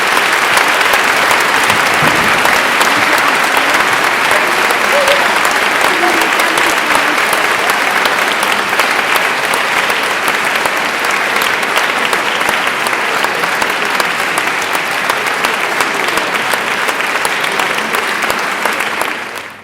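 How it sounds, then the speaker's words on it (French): A concert audience applauds a choir: loud, dense, sustained clapping from a large crowd that carries on evenly for nearly twenty seconds before dropping away at the very end. "Et on pourrait une dernière fois les applaudir"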